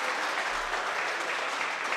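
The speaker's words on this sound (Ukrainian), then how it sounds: "Аплодують йому, аплодують йому глядачі, аплодують йому болівальники" Boxing spectators at a super-lightweight bout applaud a knocked-down fighter as he is helped up, a continuous, even wash of clapping from a distant crowd with no break.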